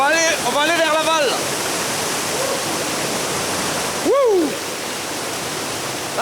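Deep in a cave, a hundred metres underground, a tributary-fed river rushes in a constant loud roar while people speak briefly at the start and one lets out a short exclamation partway through.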